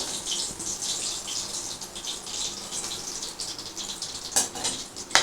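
Chicken pakora coated in crushed cornflakes fries in hot oil with a steady, bright sizzle and crackle close by, broken near the end by a couple of sharp clinks of a utensil against the pan.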